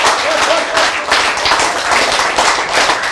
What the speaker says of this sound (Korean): 박수 한번 크게 칩시다